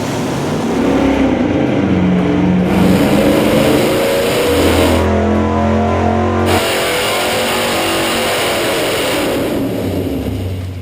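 A small-block V8 with an Edelbrock intake and 750 Holley carburetor roars loud and close on a dyno pull, revving hard with steady rising pitch and brief shifts in tone.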